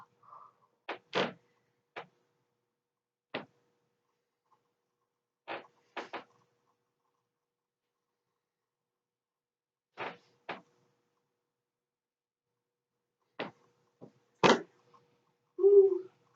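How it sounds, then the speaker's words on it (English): A wooden floor creaks during a bodyweight workout, with scattered short creaks and taps at uneven intervals, close and fairly quiet against near silence, and a brief voice near the end. "Ooh, creaky floor."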